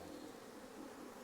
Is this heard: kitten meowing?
no